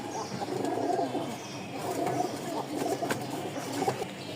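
Pigeons coo continuously at a pigeon sale, several soft overlapping calls rising and falling at close range over a low ambient background.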